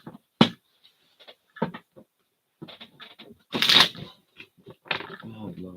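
Tarot cards are riffled and shuffled in quick, uneven bursts of papery slapping, with a loud flurry partway through and quiet gaps between.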